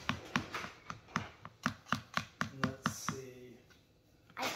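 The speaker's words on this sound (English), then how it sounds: "I'm going to try to slice the fruit up." Fruit is sliced for oatmeal with roughly a dozen sharp, evenly spaced knife chops, close and fairly quiet, before a brief pause and a soft scrape.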